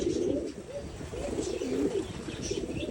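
Pigeon cooing close by in a village setting, a steady run of soft, rolling coos repeating in rhythmic phrases without pause, with faint background noise and no talk.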